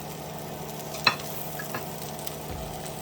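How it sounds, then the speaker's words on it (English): Diced potato cooks in oil in a pan for pineapple chicken, a quiet and steady frying sizzle with one sharp utensil knock near the start and a few small clicks afterwards. "let's put our potato now and cook it a little bit"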